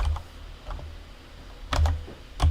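Typing on a computer keyboard, a few scattered clusters of key clacks with short pauses between them, close and fairly loud, with no talking.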